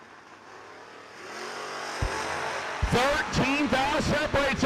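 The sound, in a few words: drag racing cars, Ford versus 1968 Chevy Camaro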